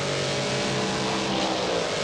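Race cars at Eastern Creek, including a Supra, roar down the straight in a dense, sustained engine blare with no commentary heard over it.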